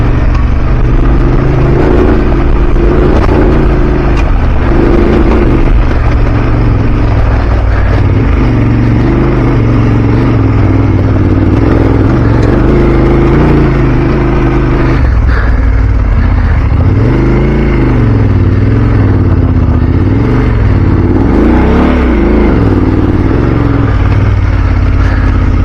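Off-road motorcycle engine pulling hard on a climb on a trail in France, a loud, continuous roar that surges and falls as the throttle opens and the revs rise, close up and dominating throughout with no talk.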